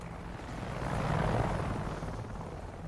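Aircraft passing overhead in Wolfenstein: Youngblood, a broad roaring whoosh that swells toward the middle and fades slowly, loud and alone.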